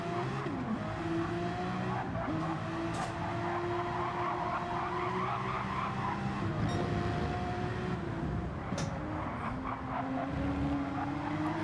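Race cars in a racing video game skid and squeal, sustained tire screeches and engine whine rising and falling over a continuous roar, with several cars audible at moderate distance and no talk.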